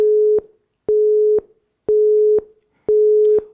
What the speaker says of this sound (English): It's the engaged tone.